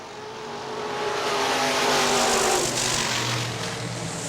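IMCA Modified race cars bunched closely together at Hartford Speedway, their engines roaring past, swelling louder toward the middle and easing off slightly, with no talk.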